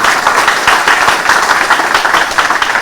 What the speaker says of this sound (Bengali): আশিসদের জন্য একটা জোরে করতালি করতেই পারে